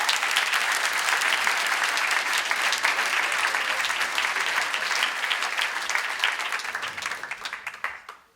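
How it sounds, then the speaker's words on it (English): An audience at a NERFA 2015 keynote breaks into dense, sustained applause that holds steady before thinning out and fading near the end. "Give everybody a round of applause"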